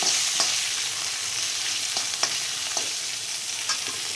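Peanuts frying in hot oil as a tempering for poha, a steady close sizzle with scattered small pops and crackles, no voices.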